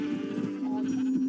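Sheep in the Minecraft video game bleat loudly in a drawn-out, quavering call, heard clearly on its own without any voices.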